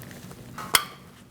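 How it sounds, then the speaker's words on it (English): A single sharp plastic click of an oxygen sensor wiring connector snapping into place on a 2004-2012 Chevrolet Colorado, near the middle, close and brief, against a quiet background. "Make sure you hear that click."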